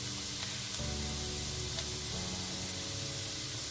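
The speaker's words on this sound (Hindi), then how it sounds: "प्याज डालेंगे। इसे फ्राई करेंगे।" Onions fry in a pan with a continuous, even sizzle heard up close, steady from start to finish with no talking.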